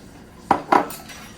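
Two quick clinks of a spoon against a cup while mixing salsa with cilantro and onion, close and sharp against a quiet background.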